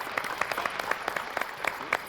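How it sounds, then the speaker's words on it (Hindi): An audience at a television show applauds in a short burst of fairly faint clapping from a modest group, with individual claps audible in an uneven patter. "एक बार जोरदार तालियां मोहनलाल जी के लिए।"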